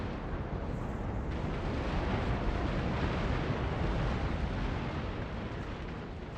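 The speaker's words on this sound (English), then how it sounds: "We saw the rear cannons firing there." Cannon fire in the strategy game Napoleon: Total War, from the front and rear guns of a 122-gun British warship in a naval battle, heard as a dense, continuous roar of booming blasts with no talk.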